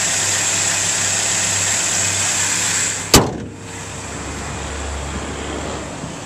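A 2001 Toyota Tacoma's four-cylinder engine idles steadily at close range, a low even hum with a single sharp knock or door thud midway, then the idle settles back in.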